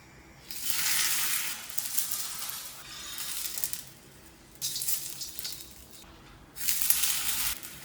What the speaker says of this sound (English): Fold it up and roast it on the tawa with oil,